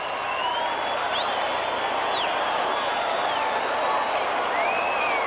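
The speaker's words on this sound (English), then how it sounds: "And listen to the crowd." Large football stadium crowd at a 1984 USFL playoff game, a steady roar of cheering and applause filling the air continuously, dense and sustained throughout.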